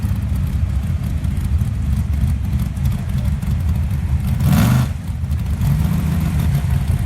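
At a drag strip, a race Jeep and a Maximum Diesel truck sit on the line with engines rumbling low and steady, one brief sharp rev rising over the idle partway through.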